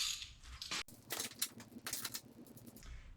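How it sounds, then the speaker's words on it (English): A ratchet wrench clicks in short uneven bursts while loosening the front axle nut of a Yamaha R1 motorcycle, close and fairly quiet, no talking. "we're going to loosen up this axle nut here"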